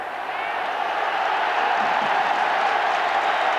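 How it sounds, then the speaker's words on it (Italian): A stadium crowd at a Champions League match, Milan against Göteborg, applauds Baggio as he prepares to come on, a broad, distant roar of clapping and crowd noise that swells slightly. "Gli applausi che sentite sono per Baggio che sta per entrare in campo"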